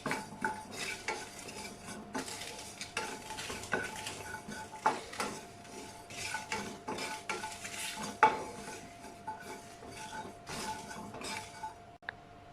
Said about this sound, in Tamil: இப்போ ஒரு கடாயில் ஒரு பேன் சூடாகிட்டு இருக்கு.